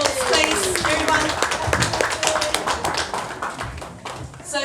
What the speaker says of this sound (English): just give it another hand of applause, please, everyone